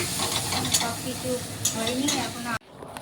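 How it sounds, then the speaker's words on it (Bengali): Pointed gourd (potol) frying in a pan for a prawn dish: a steady, close sizzle with stirring scrapes runs throughout, with a voice talking over it, before it cuts off abruptly near the end. "এটা হচ্ছে পটল ভাজা হচ্ছে এখানে"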